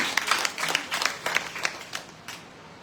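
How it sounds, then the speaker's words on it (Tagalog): A short burst of applause from a church congregation, a dozen or so claps in quick rhythm that thin out and fade after about two seconds. "Pumalakpak sa Diyos"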